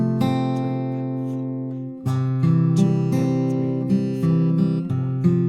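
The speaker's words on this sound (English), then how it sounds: "That's it for the intro, which sounds like this." An acoustic guitar fingerpicks the intro of a song: clear, ringing plucked notes over a sustained low bass line, played close and alone, without talking.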